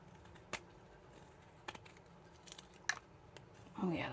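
Carving Jack pocket knife cutting a scrap piece of wood, a few sharp, quiet scraping slices spaced irregularly, close and faint, with a voice starting at the end.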